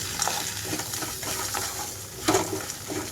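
Phool makhana being stirred into a spiced mixture in a hot pan, with a continuous low sizzle and scraping spoon strokes, and one louder clatter near the end.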